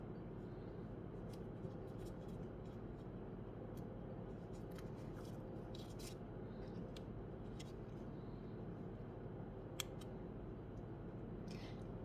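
Scissors cut paper while a card is being made, producing scattered quiet, sharp snips over a low, steady background hum.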